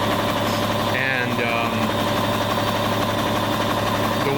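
A boat crane truck's engine idles in a constant low, even rumble with a steady knocking vibration, alone and unchanging throughout, with a brief higher tone around one second.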